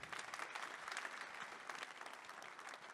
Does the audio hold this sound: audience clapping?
yes